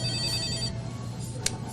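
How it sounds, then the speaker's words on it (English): A telephone rings on a live country radio show, a tonal electronic ring repeating under low background hum, close and steady, then cutting off partway before a short click. "I believe the phone's ringing."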